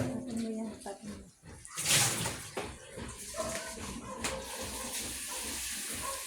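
Water poured from a tap into a container in a small shop, a steady splashing stream with a louder gush partway through, while people talk over it.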